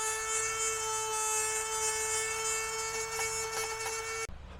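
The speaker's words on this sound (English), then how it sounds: "second attempt with a coarser wheel this time instead of the cutting wheel. We'll kind of grind it down." A small rotary grinder fitted with a coarse grinding wheel works at the lock opening of a door on a vintage Boler trailer. It gives a steady, high-pitched whine with a harsh grinding texture, runs continuously and close by, and then stops abruptly.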